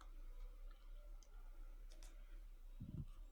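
Computer mouse clicks while working through a software installation setup, a few faint sparse ticks over low background hum.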